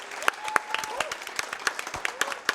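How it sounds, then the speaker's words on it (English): Applause from a speedrun event audience: scattered hand claps ring out steadily over a murmur, with a voice briefly speaking over it. "Give him a big round of applause, everybody."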